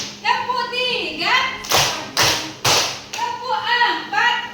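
Children in a classroom clap-along game, a few sharp, loud claps in a short burst between stretches of a teacher's voice.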